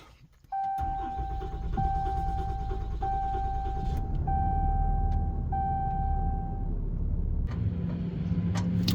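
A Ram Cummins diesel truck cranks and fires up on a chilly morning, settling into a steady, loud idle rumble while a dashboard chime rings repeatedly for several seconds.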